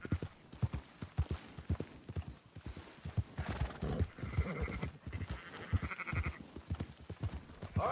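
Horses and sheep being herded in Red Dead Redemption 2, with rhythmic clip-clop hoofbeats throughout and a horse whinny and sheep bleats rising midway.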